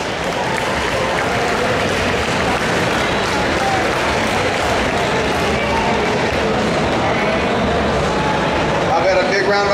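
Loud, dense applause from an audience at the 2013 Arnold Amateur women's bodybuilding lightweight awards ceremony, sustained steadily throughout with crowd noise and some speech mixed in.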